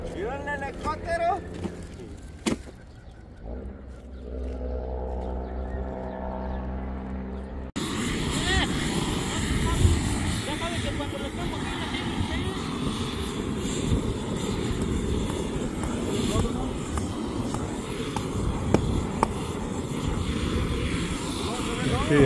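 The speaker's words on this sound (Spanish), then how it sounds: "¿Vieron el helicóptero?" A helicopter flies overhead above a house roof being repaired in Jalisco, its engine drone rising to a steady, loud rumble after brief voices and clatter at the start.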